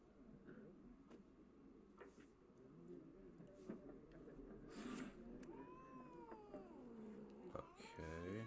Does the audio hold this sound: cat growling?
yes